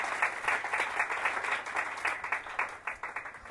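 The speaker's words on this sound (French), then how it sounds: "tu peux acclamer, tu fais bien" A church congregation applauds steadily at a service in Kinshasa, a dense patter of many hands clapping at moderate distance that rises and falls slightly without breaking.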